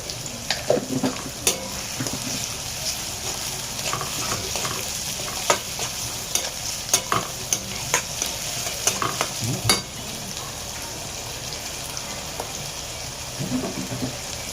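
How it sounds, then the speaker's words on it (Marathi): Salted onion fries in a pan with a continuous close sizzle, punctuated by repeated sharp clicks and scrapes of stirring throughout. "आता आपला कांदा आस्ते भाजत आहे."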